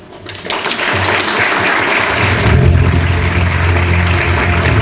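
A large indoor audience at the World Bank Korea Office 10th anniversary event claps in loud, sustained applause that swells after a quiet start and holds steady to the end.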